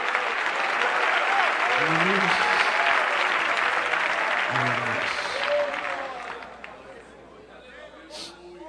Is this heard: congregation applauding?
yes